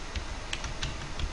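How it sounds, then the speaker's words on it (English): Someone types on a computer keyboard, a few quick, light key clicks in an irregular rhythm, close by and fairly quiet against a low room hum. "And then we will be typing the homework title."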